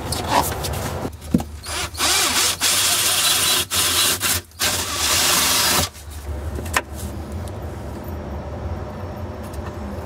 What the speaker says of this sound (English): we're going to drill a hole in this panel and install the button